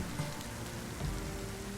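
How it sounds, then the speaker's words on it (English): Rain starts falling at the beginning of the wet season in North Borneo, a steady soft patter and hiss on surfaces, moderately quiet and even, with no voices. "It just started raining because it's the beginning of wet season."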